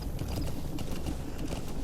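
Horse hooves clopping at a gallop in Metal Gear Solid V, a steady rapid rhythm of thuds close and fairly loud, with no talk over it.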